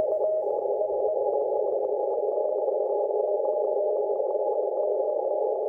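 A steady, unfiltered radio signal hums continuously, a constant midrange tone buried in static noise with no talking.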